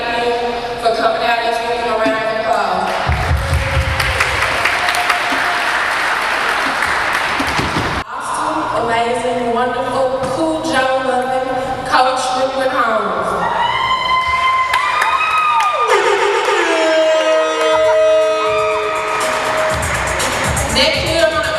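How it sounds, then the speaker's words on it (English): An event crowd claps and cheers loudly and continuously while music plays over the applause throughout. "Let's give them a round of applause."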